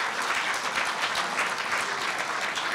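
Audience applause fills a Korea University hall at the 70th-anniversary ceremony of the campus newspaper, as guests are welcomed to declare the opening; a steady, dense crowd clapping continues without pause for the whole stretch.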